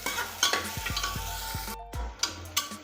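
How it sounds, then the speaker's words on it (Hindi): Onions sizzle and crackle steadily while frying in a pan, with repeated scraping strokes of stirring and a few clinks of utensil against pan, close and moderately loud. "अब हम प्याज को लाइट गोल्डन ब्राउन होने तक फ्राई करेंगे।"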